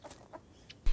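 A chicken in the survival video game Rust gives several short clucks in quick succession, fairly close, before a louder thump at the end.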